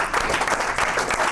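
Applause from a church congregation during a service, a steady burst of clapping from a crowd that carries on through the whole moment with a few voices mixed in.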